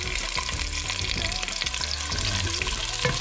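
Garlic and white onion sautéing in a pan, a steady close sizzle and crackle with faint tonal clinks over the top.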